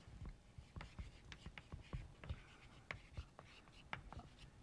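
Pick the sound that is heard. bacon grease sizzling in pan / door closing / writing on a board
writing on a board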